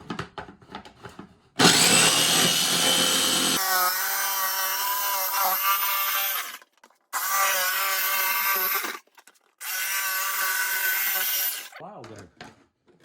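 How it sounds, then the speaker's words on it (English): A jigsaw cuts a circular hole in a lid for mounting a hot tub blower to a dust separator, running in three loud bursts with short pauses between them, ending in a faint trailing rasp. "big enough that we can get our jigsaw in there and cut around"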